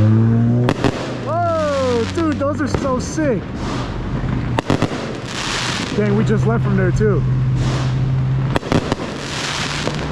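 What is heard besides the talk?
fireworks exploding at night on July 4th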